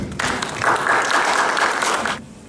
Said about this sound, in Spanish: Aquí lo recibimos con un fuerte aplauso.